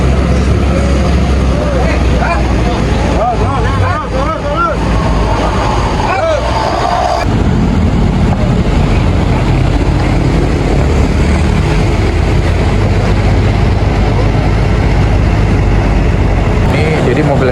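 Inside a Sumber Alam semi-cargo bus on a night trip, a steady loud engine and road rumble fills the cabin while people talk over it.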